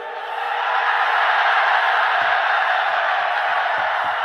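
Dense roar of a massive crowd at an outdoor political rally for Mayawati's BSP, broad sustained cheering and murmur with no individual voices standing out, steady and loud throughout.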